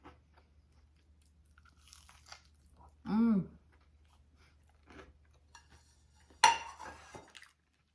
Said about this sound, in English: I almost finished one pakora.